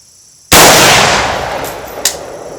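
One sharp, loud rifle shot from a PSAK-47 at an outdoor range cracks close by and rings out in a long decaying echo, followed by a faint distant report.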